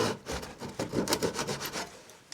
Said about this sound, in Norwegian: Og så har jeg her funnet en sag. Og så bare sånn sager jeg av.